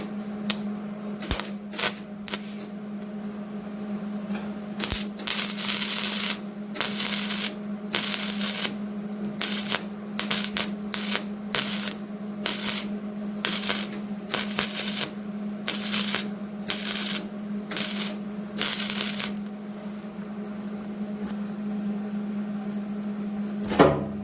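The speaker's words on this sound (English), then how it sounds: "I'm welding the gas tank for the Tacoma with the old Fluxinator 5000" Flux-core welding on a rusted salt-belt Toyota Tacoma gas tank with a Fluxinator 5000 welder: repeated bursts of crackling, spitting arc noise start and stop over a steady electrical hum, with no talking.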